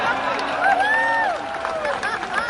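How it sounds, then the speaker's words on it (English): An audience at a speech in Little Rock cheers and applauds in a steady, dense wash of crowd noise, with a few higher shouts and whistles rising above it throughout. "Now, you're all cheering."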